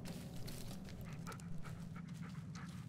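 A dog pants steadily in the video game Blair Witch, a close, rapid rhythm of breathy huffs with a few faint whimpers, heard alone without any speech.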